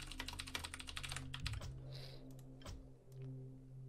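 Rapid keyboard typing up close, a quick burst of key clicks that slows to a few scattered taps, with no voices.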